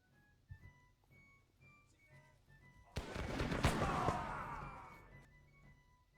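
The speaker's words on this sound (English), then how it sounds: "they're going to start shooting the general" Musket volleys in a Seven Years' War strategy game: faint scattered clicks and pops, then a sudden loud crackling burst of massed gunfire that rolls on for about two seconds and fades away.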